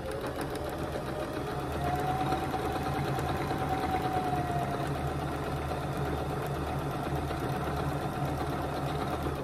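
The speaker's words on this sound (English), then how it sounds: "Sew it together at the quarter inch seam." A sewing machine runs steadily, stitching quilt half-square triangles along a quarter-inch seam, a continuous close mechanical whir with a faint tonal hum, after a brief quieter start.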